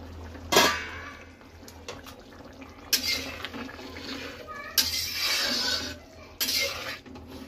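A spoon scraping and stirring kadai paneer in a metal pan, with several distinct bursts of clattering and sizzling against a low steady background hum.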